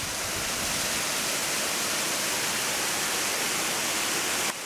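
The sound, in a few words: mountain waterfall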